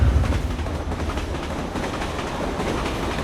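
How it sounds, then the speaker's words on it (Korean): Train bound for Guangdong province rumbling along the rails, a steady loud clatter of wheels and carriage noise filling the whole stretch with no voices. "광동성으로 가는 기차예요."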